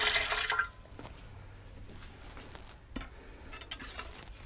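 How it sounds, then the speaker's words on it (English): Water is poured into a home canner to reach the fill line, giving a short splashing gush followed by a faint trickling and occasional drips and clinks nearby in a quiet kitchen. "I'm just going to take some water and pour it in here and get it up to that line."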